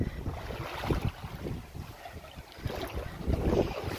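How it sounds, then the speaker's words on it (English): Wind gusts along a riverside foreshore in Bath, buffeting the microphone as a fairly steady, rough rush with soft rises and falls and no voices. "it's just suddenly got a bit windy as well"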